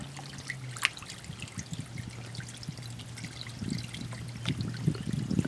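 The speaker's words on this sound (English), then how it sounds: "come back once we've filled this up with some water" Water from a hose pours and trickles into an inflatable pool outdoors, a continuous splashing flow with a low steady hum underneath and occasional louder splashes.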